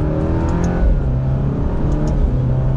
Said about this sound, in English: let's go ahead and put it over into manual mode, and we'll go ahead and downshift a couple gears to second gear.